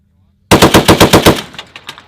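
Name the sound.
M2A1 .50 caliber machine gun firing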